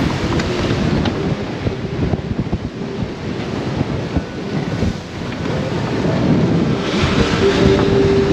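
Steady roar of strong wind at sea buffeting the microphone, with rushing water and surf noise beneath, loud and continuous throughout without any voices.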